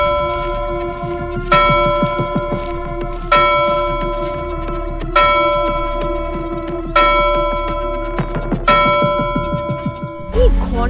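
In a Bengali cartoon comedy, a magic bell rings out in a run of bright metallic strikes about every two seconds, each one ringing down over a steady ticking pulse, with no voices.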